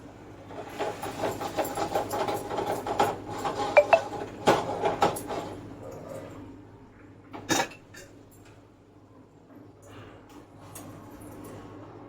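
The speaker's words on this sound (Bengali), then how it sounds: "এদিকে ডালটা ঘুটে জল দিতে হবে।" A spoon stirs dal in a cooking pot on a home stove, giving repeated close metallic scrapes and clinks that fade out, followed by a single louder clank and quiet kitchen hiss.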